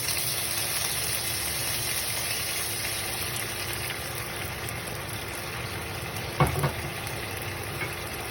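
Steady sizzle of fish steak sautéing in a hot pan with soy sauce, a continuous close frying hiss with a brief stir or clatter near the end.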